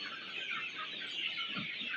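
Desi chickens clucking on a farm, a steady murmur of many birds in a poultry shed with soft overlapping clucks throughout, moderately close and without any talk.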